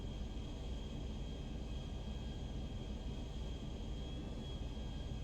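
An airplane taking off in GTA V, a steady, dense engine roar with a constant high whine on top, holding even and loud throughout with no breaks.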